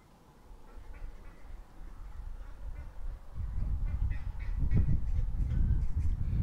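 A flock of ducks quacking at a feeder beside a creek, faint and distant at first, then growing louder and busier as overlapping quacks and honks build over a low rushing background.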